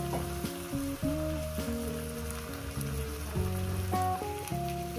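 Chicken pieces and tomato sizzle in a modest amount of oil for chicken curry. A steady, continuous frying hiss runs beneath prominent tonal background music.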